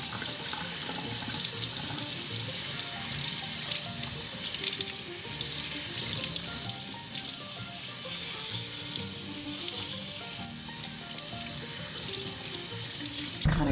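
Tap water runs steadily and close into a sink while a curly hairpiece is rinsed, a continuous splashing hiss with small shifts as hands move through the flow.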